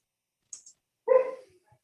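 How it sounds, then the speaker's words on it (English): A dog barks once in the distance during a quiet planning commission meeting, preceded by a faint short yip; the bark is brief and moderately loud against near silence. "I hear that dog."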